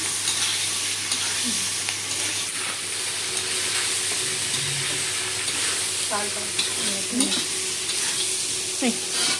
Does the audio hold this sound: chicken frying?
yes